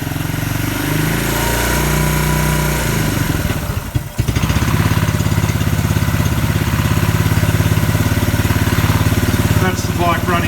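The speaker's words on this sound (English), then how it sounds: "That's the bike running in neutral" A Suzuki Quad Runner ATV engine idles in neutral with its rear axle turning, a steady close mechanical drone; a sharp break near four seconds gives way to a brisker, more even running note, with a voice talking over it.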